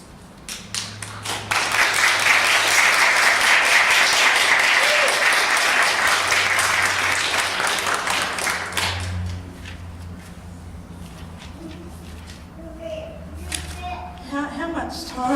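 Audience applause at an Aboriginal poetry night open mic in a gallery, a loud burst of clapping that swells quickly, holds steady, then thins into scattered claps with a few voices talking near the end.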